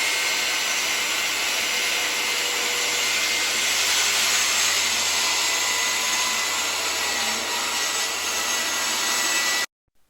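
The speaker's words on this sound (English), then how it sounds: "run the saw blade through each subsequent work piece line of travel" Circular saw cutting a diagonal line through hardwood plywood, a loud continuous high whine and rasp held steady for about nine seconds before stopping abruptly.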